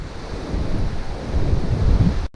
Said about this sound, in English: Pretty bloody windy.